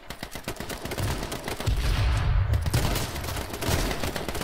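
Rapid automatic Uzi fire in the battle royale game King of the Kill, a dense run of sharp shots that builds into a sustained, loud burst and carries on with only brief breaks.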